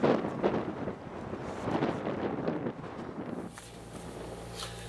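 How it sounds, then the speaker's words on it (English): Strong wind blowing outdoors by a fishing spot, a loud rough buffeting roar against the microphone that eases after a few seconds into a quieter, steadier rush. "the wind's blowing so hard"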